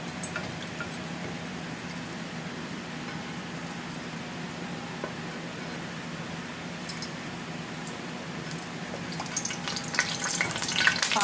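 Oil in a frying pan crackles and sizzles around stuffed chiles rellenos de picadillo, a steady hiss broken by sharp pops that grow busier toward the end.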